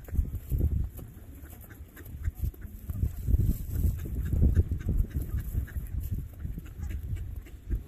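Geese and ducks at a pond: irregular honking and quacking calls, fairly close and moderately loud, in short repeated bursts over a low outdoor background with no speech.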